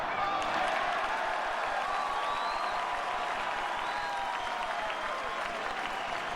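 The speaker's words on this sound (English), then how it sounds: "This crowd has come to life." A baseball crowd at a Reds versus Cubs game applauding and cheering steadily in a large ballpark, a dense continuous wash of clapping with scattered whistles, sustained at an even level throughout.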